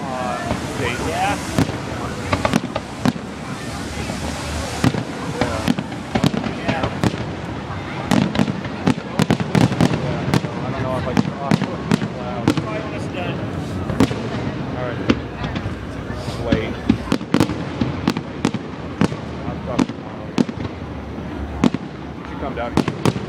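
Fireworks go off over downtown Dayton, Ohio, as a long series of sharp bangs and crackles, some loud and some more distant, with wind buffeting the microphone and a person talking on the phone throughout.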